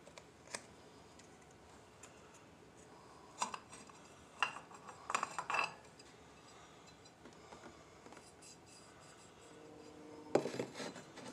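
Metal clutch parts from a Honda 450 engine teardown clink and scrape as they are handled, with scattered short taps and rattles over a quiet background and a small cluster of clatter near the end.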